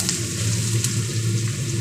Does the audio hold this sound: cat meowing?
no